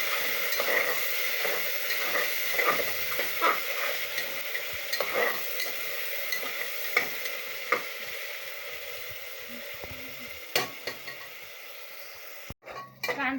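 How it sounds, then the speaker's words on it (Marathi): Chopped onion frying and being stirred in a pan at home, with a steady close sizzle, scraping strokes and occasional clinks of a utensil against the metal, ending in a few sharper knocks. "कांदा टाकून झाला तर चांगलं हलवून घ्यायचं।"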